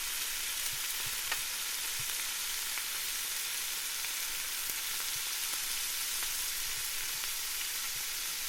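Butter sizzles and crackles steadily in a frying pan as it melts, a constant close hiss with small pops and no talking.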